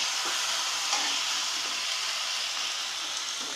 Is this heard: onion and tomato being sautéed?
yes